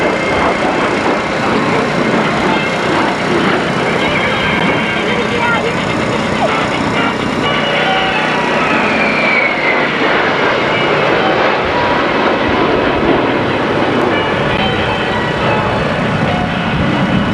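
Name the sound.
USAF Thunderbird jet flying an inverted pass at an air show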